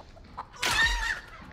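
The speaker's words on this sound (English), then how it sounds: "Oh, the chicken." A chicken in The Texas Chain Saw Massacre video game gives a single short, squawking cluck burst, close and moderately loud against a quiet background.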